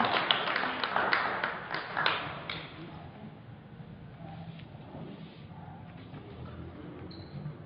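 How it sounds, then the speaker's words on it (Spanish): An audience at a water forum in Chalco claps in a brief burst of applause that fades after a couple of seconds, leaving quiet room noise and faint murmuring. "Vamos a brindarle un aplauso."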